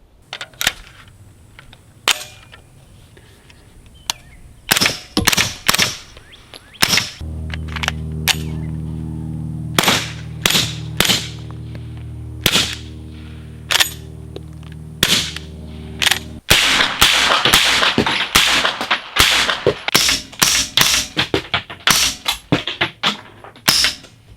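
A pistol fitted with a Silencerco Omega 9K suppressor fires subsonic 9mm rounds outdoors, sharp muffled cracks spaced irregularly, some in quick strings, over a steady low hum in the middle stretch.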